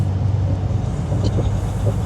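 Low, steady engine rumble from a truck hauling a Komatsu D61 dozer as it pulls out of a Days Inn parking lot early on a rainy morning, droning continuously up close with faint road noise on top.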